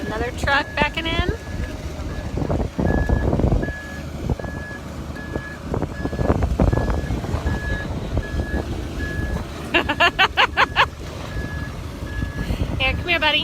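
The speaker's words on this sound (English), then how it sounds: "So we got another truck backing in." A concrete truck reverses into a farm building site for a garage and basement pour, its reversing alarm beeping steadily and repeatedly over wind buffeting and a low engine rumble.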